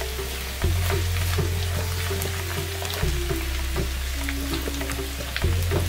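Potatoes frying in a pan for Kashmiri dum aloo, a continuous loud sizzle with crackling pops over a low burner hum that cuts in and out.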